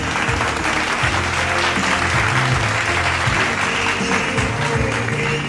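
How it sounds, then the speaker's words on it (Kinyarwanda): Wedding guests clap together in sustained, dense applause that stays loud and steady throughout, with no talk over it. "dukoma amashyi twese tuyakomera icyari"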